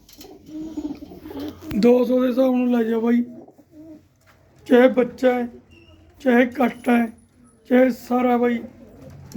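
Pigeons at a Punjabi pigeon sale coo low and steadily beneath someone talking, with several birds murmuring in the background throughout.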